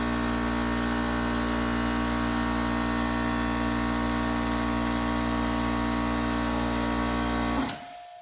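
A Craftsman air compressor motor runs with a loud, steady, close drone. It cuts off abruptly just before the end.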